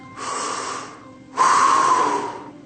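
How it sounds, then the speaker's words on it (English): Something crouching in the bushes breathes heavily, two long, rough, airy breaths up close, the second louder and harsher than the first, with no talking. "Crouching somewhere in the bushes is something. You can tell by the heavy breathing."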